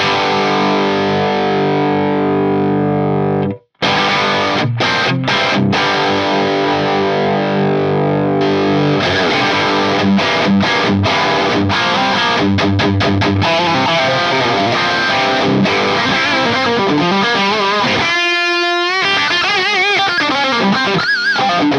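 Heavily distorted electric guitar through an Axe-Fx III Plexi 100-watt Marshall-style amp model, playing sustained chords and quick riffs with a crunchy tone, loud and up front, with a brief pause early on.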